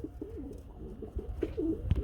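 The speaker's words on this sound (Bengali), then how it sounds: "আমরা খুবই সুন্দর মধ্যে এখানে এক জোড়া কবুতর দেখতে পাচ্ছি ভাই।" A pair of fancy pigeons coos close by in a quiet setting, giving repeated soft, low, throaty rolling calls with a brief sharper sound near the end.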